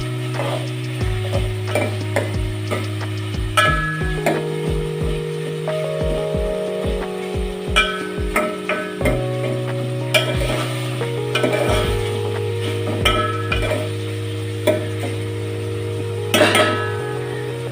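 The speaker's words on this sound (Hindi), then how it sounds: "पानी तकरीबन हो गया है खुश्क और इसने अब इसको फ्राई करना शुरू कर दिया है" Food fries in oil in a cooking pot as the water cooks off, with a spoon stirring in steady scraping, clicking strokes over a constant humming background for the whole stretch.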